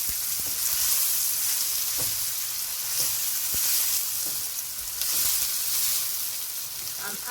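Meat pie filling frying in a pan, a steady loud hiss and sizzle with occasional soft scrapes and knocks from stirring throughout.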